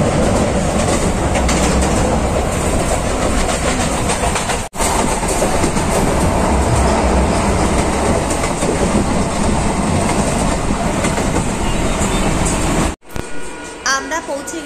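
A Sealdah line train bound for Kalyani Simanta runs with a loud, continuous rumble and rhythmic clickety-clack of wheels on track, heard close from inside the carriage, with two brief dropouts.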